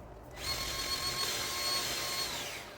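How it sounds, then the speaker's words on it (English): A powered grease gun whirs steadily for about two seconds, close and even, while greasing a zerk fitting on a mini excavator, then cuts off. "I'm going to shoot a little bit more grease."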